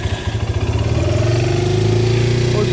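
A Kawasaki Brute Force 650 ATV with a carburetor problem idles close by and won't throttle up, its engine chugging rapidly at first and then settling into a loud, steady hum.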